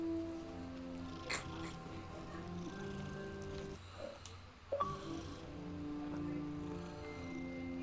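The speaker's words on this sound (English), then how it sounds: "Hey, kitty cat." A cat in a story-mode video game gives a couple of short meows against steady game music, with a brief purring or mewing sound midway.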